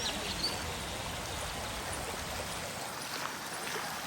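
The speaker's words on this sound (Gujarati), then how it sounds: "પાણી જો ભાઈ રોડ ટપી ગયો" Floodwater from heavy rain pouring across a road, a steady broadband rush and gurgle of flowing water heard close by and continuous, with no voices.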